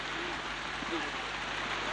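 Steady hiss of rain falling over an outdoor football pitch during a match between Vere United and Harbour View, a continuous broadband wash with faint crowd or commentary murmur beneath.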